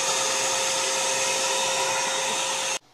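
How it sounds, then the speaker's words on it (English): Vacuum pickup on a Presto K8 record cutting lathe, a steady loud broadband suction hiss with a faint tonal whine, running continuously and then cutting off abruptly near the end. "Have you seen the vacuum pick up on your machine?"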